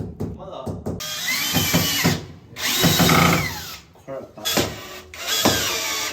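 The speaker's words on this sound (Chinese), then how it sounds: "这个打孔感觉非常轻松，因为这个是普通的墙砖" Electric drill boring holes into ordinary ceramic bathroom wall tile with a triangular-tipped bit, loud whining bursts that start and stop several times, with a person speaking between and over them.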